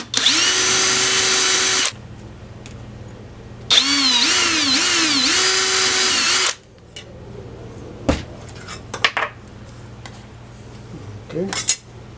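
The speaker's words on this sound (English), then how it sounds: "So I'm going to up drill the holes." Two long bursts of a high-pitched power drill whining through metal, enlarging holes for nut plates on a Sonex aircraft sensor bracket, the second wavering in pitch, followed by clinks and light handling noises.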